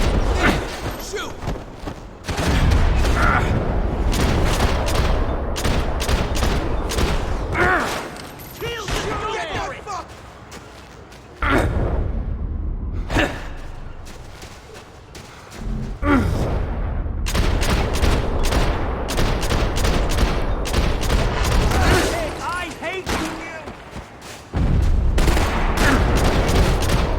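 Dense, rapid bursts of gunfire from Max Payne 3 keep a near-continuous loud barrage going, with brief lulls between volleys and shouted voices mixed in.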